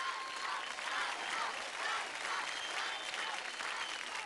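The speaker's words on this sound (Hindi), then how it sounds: "जोरदार ताली हो जाए दीपक और अदिति के लिए।" An audience bursts into sustained clapping after a dance performance on a televised kids' dance competition stage, a full, steady wash of applause from a large crowd lasting the whole stretch.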